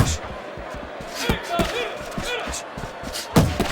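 Punches land in a Fight Night Champions boxing match, a quick run of thudding slams over an arena crowd while a commentator talks throughout.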